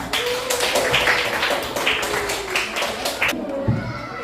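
Classroom applause after a group presentation, a short burst of many hands clapping at close range that fades out, mixed with a few thumps and some voices.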